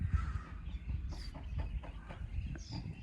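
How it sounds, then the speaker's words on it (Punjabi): Birds call in short, scattered bursts over an irrigated wheat field, a few chirps and squawks over a low rumble of wind, with no voices. "ਪੰਛੀ ਚੁਗ ਰਹੇ ਆ ਬੋਲ ਰਹੇ ਆ"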